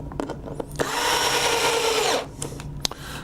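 Hitachi power screwdriver driving a screw into a control panel: a single whirring burst of just over a second, close and moderately loud, framed by small clicks and handling taps.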